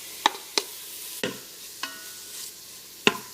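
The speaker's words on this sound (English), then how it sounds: "So the Cosori's been heating up for a few minutes on the saute function, so I'm going to go ahead and put my chopped bacon right in here." Chopped bacon sautéing in a Cosori pressure cooker: a faint background sizzle broken by five sharp, spaced clicks and taps of a utensil against the pot.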